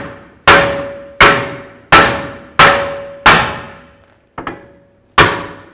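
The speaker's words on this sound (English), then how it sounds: "And now I'll take a hammer and tap the bolts from the back side." Hammer strikes tapping the wheel hub bolts loose from the back of a 2011-2014 Chrysler 200 rear hub, seven sharp metallic blows at a steady pace with ringing decay, one lighter tap near the end, close and loud.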